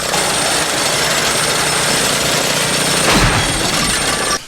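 A lawnmower engine runs loud and close with a rough, steady mechanical clatter and no talk over it, then cuts off abruptly at the end.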